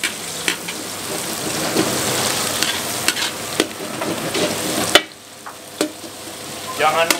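Onions sizzle and are stirred with a utensil in a large wok over high heat while cooking a big batch of stir-fried baby corn with meatballs, with steady frying hiss and occasional scraping clinks.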